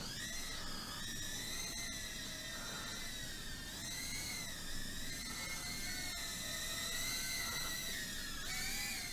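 Tiny Eachine E012 quadcopter toy drone flying, its small rotors giving a continuous high-pitched whine that wavers in pitch as it moves, close and steady throughout.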